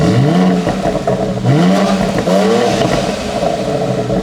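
A BMW X3 M engine revs loudly several times with its exhaust valves open, rising and falling with a deep, open exhaust roar, close by and without talk.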